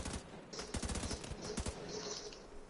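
Weapon fire in The Division 2, quick bursts of gunshots in a ragged rapid rhythm, moderately quiet in the game mix with no speech.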